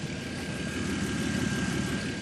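A Chevrolet Equinox engine idles steadily with a low, even rumble and a faint whine, continuous and close, with no voices; the exhaust is faulty.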